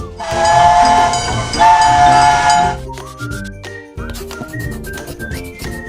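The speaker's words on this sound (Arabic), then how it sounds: "ترين قطار" A train sounds its horn in long loud blasts over rumbling wheels, then the clatter and rolling of rail cars carries on alone with shorter whistle tones.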